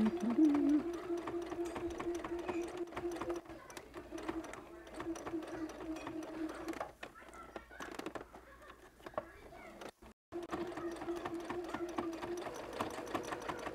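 A sewing machine stitches with black thread in steady, fast whirring bursts that pause briefly and restart, fairly close, with a person talking at times over the mechanical hum.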